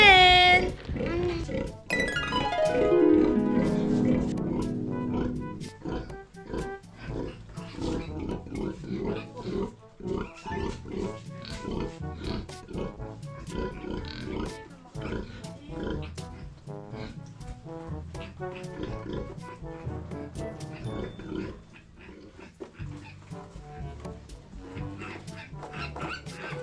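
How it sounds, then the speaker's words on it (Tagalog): Pigs on an island farm, including a mother sow that has just given birth, grunt and oink in quick, repeated bursts, close and busy, with high squeals near the start. "nanganak po ang baboy ng Kuya Arnel!"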